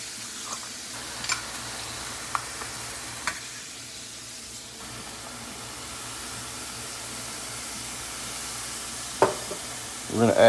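Garlic and ground ginger frying in a pan, a low continuous sizzle with occasional sharp clicks and taps of utensils, growing briefly louder with a clatter at the end.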